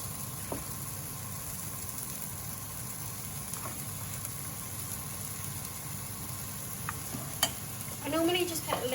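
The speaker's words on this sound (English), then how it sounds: "Put your rice in, because I can hear the sizzling." Rice for vegetable fried rice sizzles steadily in a hot pan with scraping stirs throughout, close and moderately loud, with a brief louder clatter of stirring near the end.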